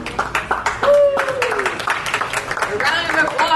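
An audience at a North Beach poetry reading claps, a burst of applause with people talking and calling out over it, close and lively throughout.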